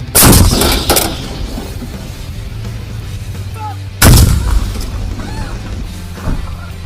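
A CAESAR 2 8x8 self-propelled howitzer fires twice, about four seconds apart. Each round is a loud, close blast that rolls off into a long reverberating rumble outdoors.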